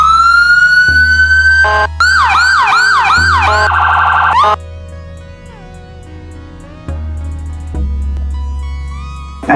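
Volkswagen ambulance siren sounding loud and close, cycling through rapid wail and yelp tones, then a fast hi-lo phaser pattern before settling into a steady tone with engine rumble beneath.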